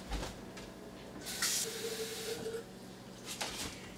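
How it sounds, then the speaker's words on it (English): Water poured into a crock pot to fill it for cooking a turkey breast, a faint continuous hissing splash with small fluctuations, close but quiet, no talking. "And we will continue to fill up that pot."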